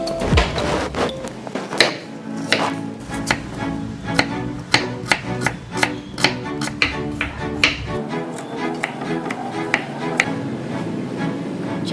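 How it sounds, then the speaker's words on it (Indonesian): A knife slices shallots on a cutting board for an Indonesian stir-fried cucumber scramble, giving a long run of sharp, evenly paced taps close by with no talk. "pertama-tama kita iris dulu bawangnya ya"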